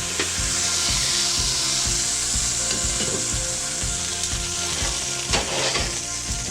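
Lamb chops sizzle in a hot pan, a steady close frying hiss with soft rhythmic scraping or tapping underneath and occasional sharper pops.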